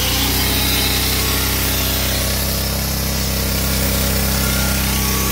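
A circular saw cuts steadily through neem wood for several seconds, a loud continuous grinding whine with a low motor hum underneath and no pauses.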